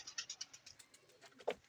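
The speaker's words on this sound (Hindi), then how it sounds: "ये देखें माशाल्लाह कबूतर ये तो ऊपर भी हैं काफ़ी" Pigeons at a pigeon club, with soft repeated coos and light chirps over about two seconds and one louder call near the end, quiet and fairly close.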